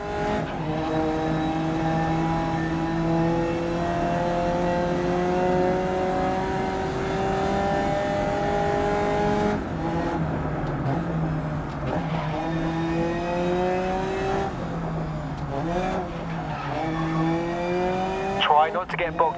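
A race car in GRID Legends revs through long rising and falling engine notes, shifting and dipping near the end, loud and close, with faint talk at moments.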